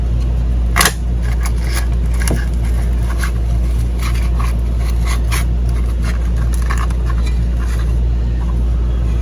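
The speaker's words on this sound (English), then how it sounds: "I'm gonna cut my tire wrap." A zip tie snaps under cutters during a rewind starter spring repair on an outboard motor: one sharp click near the start and a fainter one shortly after, over a loud, steady mechanical hum.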